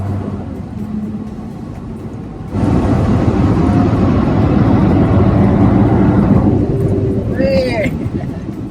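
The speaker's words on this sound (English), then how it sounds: "I mean, that thing, for a 6-cylinder, that thing pulls really good." A Chrysler Crossfire SRT6 with a six-cylinder engine accelerates on the road, its engine and road roar surging abruptly and staying loud and steady inside the cabin, with people talking over it.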